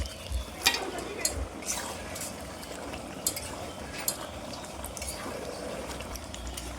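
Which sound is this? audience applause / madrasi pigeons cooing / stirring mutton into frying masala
stirring mutton into frying masala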